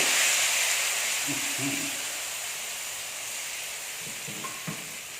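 Vegetables coated in egg batter dropped into boiling oil give a loud, dense hiss up close, easing slightly over time with a few faint knocks and bubbling pops, no talking.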